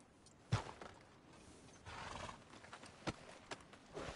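A horse in the video game Red Dead Redemption 2, heard as a few sharp hoof clops and snorting or whinny-like bursts, close and moderately loud over a quiet outdoor background, with no talking.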